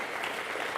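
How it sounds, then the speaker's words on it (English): Brief burst of audience applause at a retrofit event at the Centre for Alternative Technology, a soft, even patter of many hands clapping at a distance. "Could maybe give her a little round of applause."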